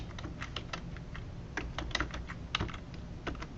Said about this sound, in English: Then I type in kilometers